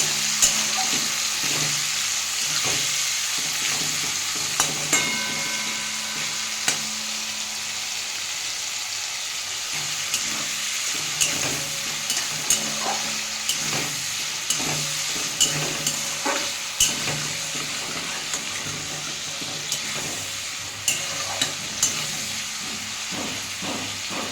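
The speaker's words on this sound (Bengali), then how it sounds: "এবার কড়াতে সর্ষের তেল দিয়েছি আমি এবার চিংড়ি মাছগুলো একটু ভেজে নেব" Prawns sizzle and fry in mustard oil in a wok, a steady close hiss with scattered crackles and spatters running throughout, no talking over it.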